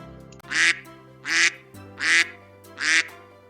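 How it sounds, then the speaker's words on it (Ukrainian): Four evenly spaced, loud nasal quacks from a duck in a farmyard, each about half a second long, with short quiet gaps between them. "По подвір'ю також прогулюється качур разом із качкою та їхнім маленьким каченятком."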